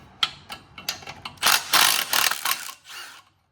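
A ratchet wrench works a 14 mm bolt on a bracket over the downpipe of a 2023 Subaru WRX, with a few sharp clicks and then bursts of rapid ratcheting, close up and alone.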